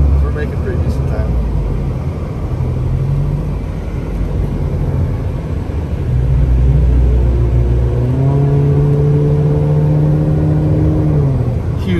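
A car climbing mountain Highway 38 toward Big Bear, California, its engine rumbling low and steady inside the cabin, rising in pitch as it accelerates, with people talking over it.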